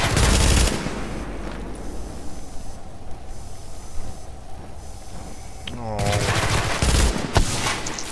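Video game gunfire rings out as beefalo are shot: a loud burst at the start, then a lower steady rumble, then another harsh volley near the end.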